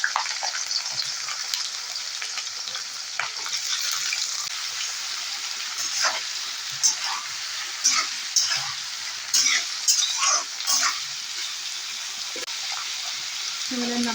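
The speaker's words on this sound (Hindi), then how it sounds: "जैसे ही तेल गर्म हो जाएगा उसके बाद मैंने जो सब्जी काट के रखा था वो डाल दूंगी" Chopped beans, carrots and potatoes frying in hot oil in a kadai give a steady, close sizzle and hiss, broken by occasional stirring scrapes and spatters.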